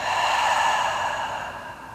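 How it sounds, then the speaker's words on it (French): A long, steady breath pushed out through the mouth during a beginner yoga session, a soft airy rush that fades gradually over about two seconds, close and alone with no talk. "une longue expire par la bouche"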